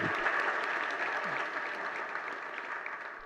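A crowd at a Jain religious discourse breaks into steady applause, a dense and even clatter that holds throughout without talk.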